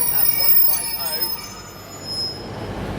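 Great Western Railway class 150 diesel unit arriving at Exeter St Davids station, a steady rumble of wheels on rail with thin metallic squeals from the wheels, loud and close.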